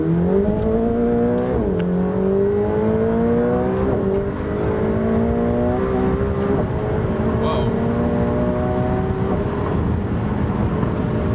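A brand new McLaren 720S accelerates hard up to 150 mph, its engine note climbing steadily through several gear changes, loud and close from inside the cabin with a continuous road and wind roar underneath.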